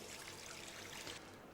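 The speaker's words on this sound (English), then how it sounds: "add some water" Water trickles and pours steadily into an electric frying pan, a continuous close, even stream with no talking.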